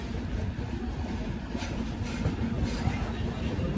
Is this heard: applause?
no